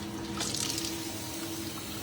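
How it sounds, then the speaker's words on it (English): Water is dumped out of a glass mason jar used for soaking paint brushes, giving a short splashing pour that fades into a light trickle, close by with no talk. "You can see we've got water in a mason jar. So I'm just gonna dump that out."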